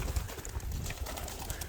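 Young pigeons being let out for the first time, soft low cooing repeated a few times under a rustling background of fluttering and movement, fairly close and quiet.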